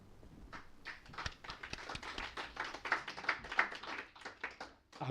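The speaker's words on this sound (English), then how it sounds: "I will pass on this applause" A conference audience applauds after a speaker finishes, a scattered mix of individual hand claps with uneven rhythm, moderately near and steady throughout without speech.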